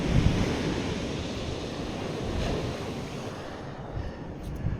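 Wind and surf at an open coastline during fishing, a steady broadband roar of breaking waves and gusting wind buffeting the microphone, loud and continuous throughout with no voices.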